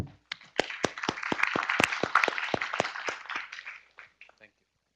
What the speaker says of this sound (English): we'll stop by probably applauding the panel member and the